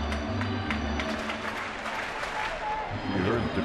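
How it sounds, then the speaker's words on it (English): A baseball stadium crowd cheers at a San Francisco home game as Buster Posey steps into the on-deck circle, a steady roar of many voices and some clapping swelling in the background behind a broadcaster's talk. "You heard the crowd in the background."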